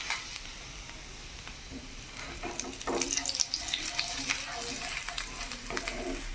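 Garlic is stirred and fried over a low flame for butter garlic chicken, making a gentle crackling sizzle with intermittent stirring scrapes, and a watery rush joins partway through.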